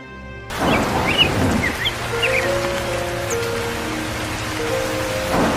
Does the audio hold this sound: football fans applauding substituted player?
no